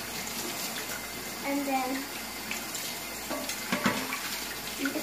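Running water as something is washed under a tap, a steady splashing wash with someone talking over it.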